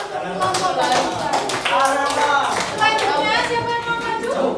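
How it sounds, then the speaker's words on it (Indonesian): Schoolchildren clapping in a classroom for a student group, loud and close, with rhythmic taps and children's voices talking over the claps throughout. "beri tepuk tangan untuk kelompok bangsa"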